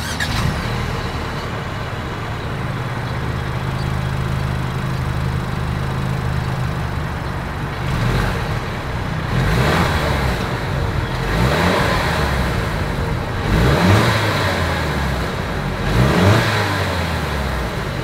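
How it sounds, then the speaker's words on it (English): 2022 Mercedes-Benz E350 with dual exhaust, its engine idling, then revving in several rising and falling swells, loud and close, with no talk. "As always, here is that exhaust clip."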